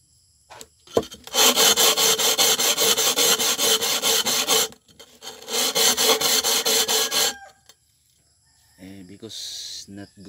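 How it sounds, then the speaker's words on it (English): Two long bursts of steady back-and-forth rasping as wet sandpaper scrubs the cut edge of a plastic bottle, with brief pauses and a short voice at the end. "So I need to wet this sanding paper"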